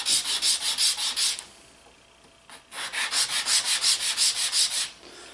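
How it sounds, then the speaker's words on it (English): Wood is sanded by hand with 150-grit sandpaper in rapid, even back-and-forth strokes, two close, loud bursts of rhythmic rasping separated by a short pause, with no talking. "then a little sanding will clean those right up. This is just some 150."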